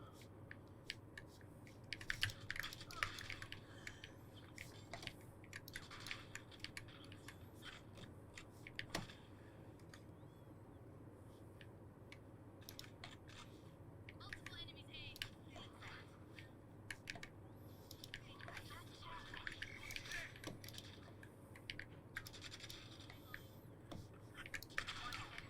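Soft, rapid keyboard and mouse clicks from a computer during a Valorant match, scattered irregularly and faint throughout, with quiet murmured speech and low background hum.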